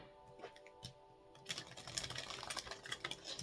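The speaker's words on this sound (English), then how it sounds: "So we're going to shuffle the deck 3 times" Playing cards shuffled for a tarot reading, a quiet stretch with a few soft taps giving way to a dense, continuous riffle of flicking cards that runs for the last two seconds, close and moderately loud with no talking.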